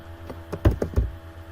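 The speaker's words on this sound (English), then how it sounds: "we're going to type in what we want it to say here" A few quick taps on a computer keyboard while text is typed in, four or five close, distinct keystrokes bunched within about half a second in an otherwise quiet room.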